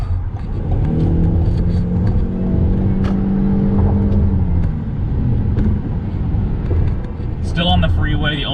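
A 2021 Toyota RAV4 Prime plug-in hybrid SUV pulls hard to overtake on the freeway, its engine and road noise droning loudly with a rising pitch, while a voice talks over it.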